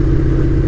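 A KTM Superduke 1290R engine while riding on the road, a loud, steady low throb with a pulsing rumble close up, without talk.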